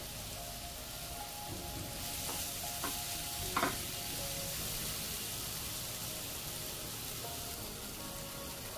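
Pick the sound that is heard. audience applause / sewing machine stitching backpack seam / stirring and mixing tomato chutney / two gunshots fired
stirring and mixing tomato chutney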